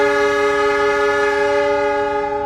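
The Pandalungan 2 passenger train departing Probolinggo station sounds one loud, sustained horn blast with a steady chord-like tone that fades slightly at the end.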